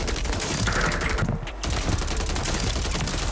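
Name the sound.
gunfire in Warzone video game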